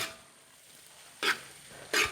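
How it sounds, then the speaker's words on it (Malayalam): Dried prawn pickle with fish being mixed in a pan, a quiet background hiss broken by two short, sharp scrapes of a spoon against the pan. "പിന്നെ ഒരു നല്ല മിക്സിങ്"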